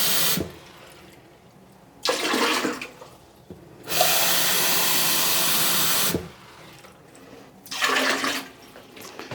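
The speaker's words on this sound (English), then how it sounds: "if I took just a cup and just added some water down here" Water from a cup gushes and splashes into a toilet bowl in several bursts, a longer steady pour in the middle, with quiet pauses between.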